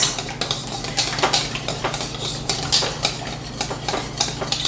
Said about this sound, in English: whisk your wet ingredients